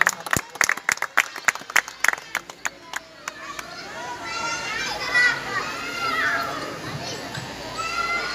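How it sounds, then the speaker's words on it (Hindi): At a Ghaziabad political party event marking Kanshi Ram's birthday, a few sharp, uneven claps ring out close by, then give way to a lively wash of crowd chatter and voices. "तालियों के साथ।"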